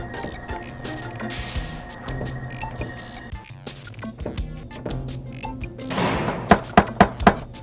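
Knocking on a door in the adventure game Deponia, with a run of four sharp raps near the end over a background of game music and effects.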